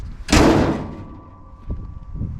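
A single heavy thump as the hood of a 1964 Cadillac Fleetwood slams shut, close and loud, followed by a fading rumble and a couple of softer knocks.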